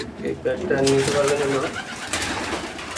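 Pigeons cooing at a market stall selling birds with chicks, a close, low, throaty rolling coo in the middle of the clip, mixed with background chatter and voices.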